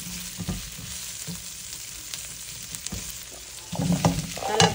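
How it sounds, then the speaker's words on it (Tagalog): Garlic and onions sizzle as they are sautéed in a hot pan for a Filipino mung bean stew, with steady frying crackle, a few stirring clanks, and louder spattering toward the end. "Mag-isa tayo ng garlic at saka onions. Gisa na bawang."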